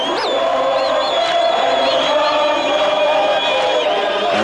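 A 35,000-strong stadium crowd at a soccer match between Orlando Pirates and Bushbucks roars steadily throughout, with sustained cheering, whistles and chanting voices blending into a loud, continuous wall of noise.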